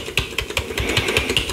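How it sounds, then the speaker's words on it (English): Steady typing on an Azio Prism membrane keyboard, soft muffled keystrokes in a quick, fairly even rhythm, close up with no voices. "this is a membrane keyboard that says it kind of has the"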